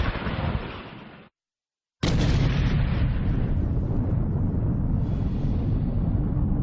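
A deep, roaring volcanic explosion rumbles loudly and continuously, broken by a brief silent gap before the blast noise returns at full strength and keeps going.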